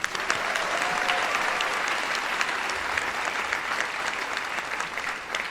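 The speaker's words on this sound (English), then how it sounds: "I'd like to ask another round of applause for both Robbie and Kayla." Steady applause from a commencement ceremony crowd fills the whole stretch, dense clapping that holds its level before easing slightly at the end.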